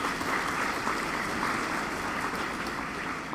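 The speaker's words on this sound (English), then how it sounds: "So give him a round of applause for that." Applause from an audience at a high school extra-curricular awards ceremony, steady dense clapping held at a fairly quiet level throughout with no talk over it.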